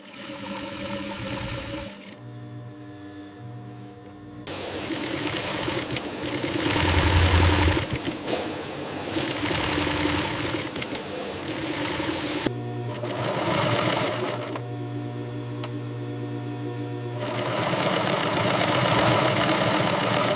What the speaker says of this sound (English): Side seams stitched on high-speed sewing machine.